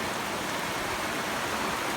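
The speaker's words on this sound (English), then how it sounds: "you can see the rain" Rain falls steadily during an afternoon thunderstorm, a continuous close hiss of drops with no talk or thunder in the short stretch.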